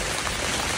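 Rain falls in a dense, even hiss, a close, unbroken wash of many drops with no voices.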